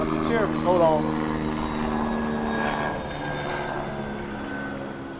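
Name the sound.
helicopter flying overhead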